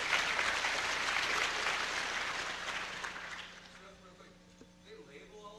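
An audience at a DEFCON hacker conference lockpicking talk applauds a quiz winner. The full clapping tapers off after a few seconds and gives way to quiet talk.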